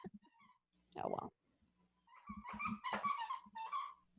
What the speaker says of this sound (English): These dogs are descending into madness.